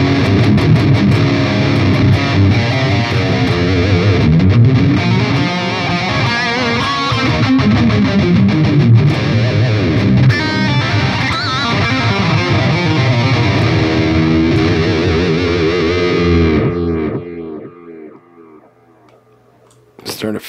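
Distorted electric guitar played through a Line 6 POD Express with reverb set high, a dense, continuous riff for most of the stretch before ringing out into a sustained decaying tail and a brief final strum.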